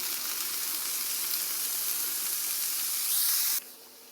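Onions sizzling and frying in oil in a pan over low heat, a steady loud hiss continuing without pause until it drops off sharply near the end.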